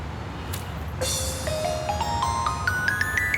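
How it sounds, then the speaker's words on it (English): A flat stone skips across water, opening with a splashy hit, then a rising chirpy sequence of bright, quickening tones over a steady outdoor background. "Skimmers are good for skipping on the water,"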